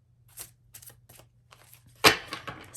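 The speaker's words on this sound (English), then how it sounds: "Spirit is asking me to riffle shuffle again and then clarify." Tarot cards riffle shuffled by hand: several light flicks and taps, then a loud burst of cards riffling together near the end, close and alone.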